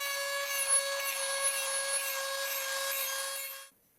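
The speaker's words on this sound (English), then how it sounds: "using various tools, these parts are ground, smoothed, and chamfered." Metal parts of a century-old 16 kg German flywheel press are ground and smoothed with a tool, a steady high whining rasp with a constant tone that runs evenly, then cuts off abruptly near the end.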